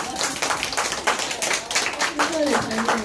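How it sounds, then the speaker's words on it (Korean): An audience at a talk on the Busan World Expo claps together in a dense, steady burst of applause lasting a few seconds, with a voice faintly audible underneath. "박수 한번 칠까요?"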